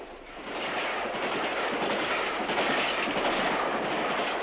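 A train on the Great Western main line near Highbridge station rumbles past, a loud steady roar with faint clickety-clack that swells in after the first half second and holds to the end.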